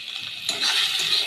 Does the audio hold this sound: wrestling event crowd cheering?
no